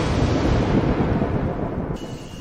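Monsoon thunder rolls over an Asian jungle in a long, loud, deep rumble with rain hiss, fading slightly toward the end; no voices.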